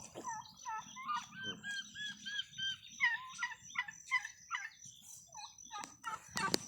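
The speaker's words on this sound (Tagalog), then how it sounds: "Ay, pabo." A flock of turkeys on a farm plot gobbles repeatedly nearby, rapid warbling calls overlapping in bursts against a low murmur of farmyard noise.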